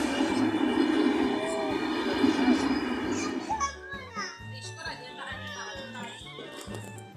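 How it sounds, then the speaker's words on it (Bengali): Loud rumbling and clatter of a passing train that fades away, followed by rhythmic wheel clacks, with children's voices chattering throughout. "অবশেষে ট্রেনটা চলে যাচ্ছে"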